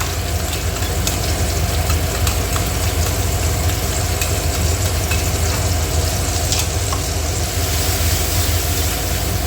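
Spice paste hits hot oil in a pan, giving a loud, steady sizzle and crackle that runs unbroken throughout, with scattered sharp pops rising above the hiss.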